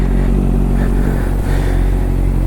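A Honda CBR650 superbike with a loud aftermarket exhaust idles steadily after starting, a close, deep, continuous engine rumble with a slight dip in the middle and no voices.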